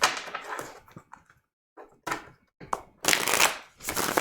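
Tarot cards being shuffled by hand, close up: quick riffling bursts and soft papery flicks in uneven clusters, with short quiet gaps between them.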